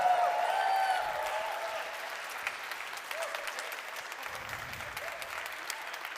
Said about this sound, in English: feel free to clap.